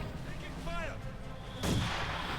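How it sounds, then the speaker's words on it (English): German mortar fire in the World War II strategy game Company of Heroes 2, a single loud, heavy blast landing partway through over a busy battle background of faint distant shots and whistling shells. "With their German mortar responding rather aggressively."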